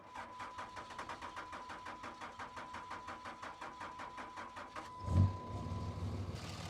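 A jump-started Cummins diesel engine cranks in a fast, even rhythm for several seconds, then fires with a loud thump and settles into a low, rumbling idle.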